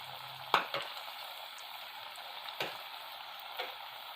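Tapioca vadas fry in hot oil with a steady close sizzling hiss, broken by a few sharp clicks and taps from a utensil turning them, no one speaking.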